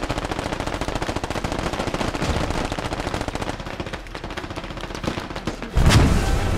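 Sustained automatic gunfire rattles throughout a close-quarters Fallujah combat video game, then a sudden loud IED blast booms near the end.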